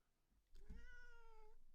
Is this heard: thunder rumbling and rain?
no